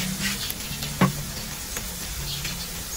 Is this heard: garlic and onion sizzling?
yes